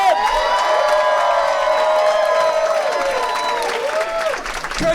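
A large audience at a live roast battle event in Washington, D.C. cheers, whoops and applauds loudly and continuously, with high shouts and screams riding over dense clapping.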